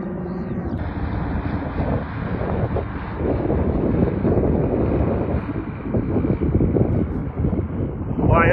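Wind gusting across a skydiving school's airfield, a steady broadband roar buffeting the microphone throughout without a break.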